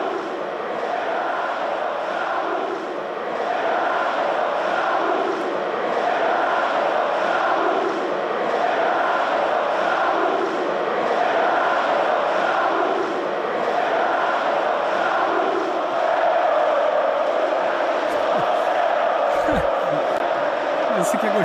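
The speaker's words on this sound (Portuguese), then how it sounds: "A torcida do Fluminense cantou pro Renato Gaúcho." Fluminense supporters chant in unison across a stadium, a steady rhythmic crowd roar that holds for the whole stretch, with a brief louder burst near the end.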